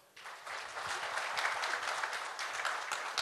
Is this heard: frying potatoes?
no